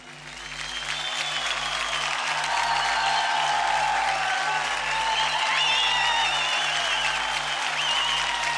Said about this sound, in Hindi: जोरदार ताली हो जाए पुनीत के लिए